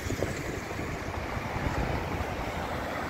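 Sea waves wash onto the beach at Boa Viagem in Pernambuco, a steady broadband surf roar mixed with wind buffeting the microphone, continuous and fairly loud with no voices.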